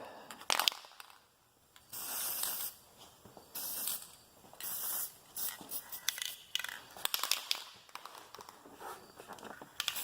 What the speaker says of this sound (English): So shake it up real good. Go ahead and spray away.